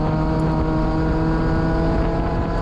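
Mazda Miata engine droning steadily at high revs on a lap of Ozarks International Raceway, a loud, continuous buzzing note close up with no pauses and no talk.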